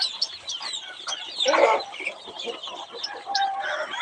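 Native desi chickens cluck and healthy chicks peep close by in a continuous, busy chorus, with one louder burst of clucking partway through.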